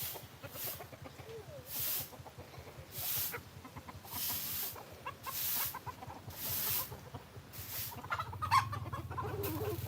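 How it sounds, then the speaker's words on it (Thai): Chickens at a resort farm clucking and chattering up close, repeated short calls over a steady low hum, with several louder bursts of noise recurring every second or so. "ไหนเอาน้ำให้ไก่นะครับ ไหนอาไก่มีกี่ตัวนับให้มีฟังสิ"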